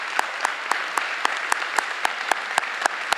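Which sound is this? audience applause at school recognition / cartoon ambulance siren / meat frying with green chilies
audience applause at school recognition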